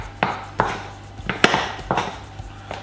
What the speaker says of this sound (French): Et je mélange tout le temps